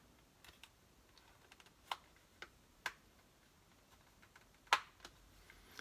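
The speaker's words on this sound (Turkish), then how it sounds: "Tırnak yardımıyla arka kapağı söküyoruz" Fingernail prying off the back cover of an Asus Zenfone 6: a few faint, sharp plastic clicks and snaps spaced irregularly over a quiet background, one louder crack near the end.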